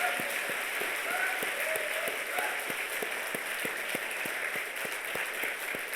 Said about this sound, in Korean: 하나님께 영광을 박수드립니다